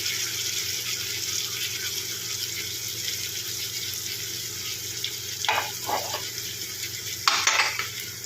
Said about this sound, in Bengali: এবারে এগুলোকে ভালো করে নেড়ে নেব